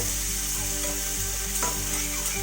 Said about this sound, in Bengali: পেঁয়াজটা দিয়ে এখন নেড়ে চেড়ে অল্প সময় নেড়ে চেড়ে